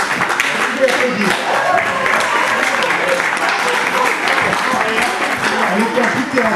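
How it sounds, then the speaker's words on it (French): Sustained applause from a sizable audience at a poetry event, a continuous wash of clapping that holds steady from start to finish at close range. "Vous pouvez applaudir."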